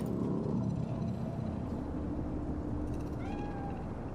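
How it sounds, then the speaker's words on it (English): A cat in the video game Cyberpunk 2077 lets out a faint, drawn-out meow late in the clip, heard over a steady low city ambience. "The cat."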